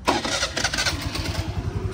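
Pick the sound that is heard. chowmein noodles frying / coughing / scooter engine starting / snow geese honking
scooter engine starting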